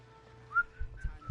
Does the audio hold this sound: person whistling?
yes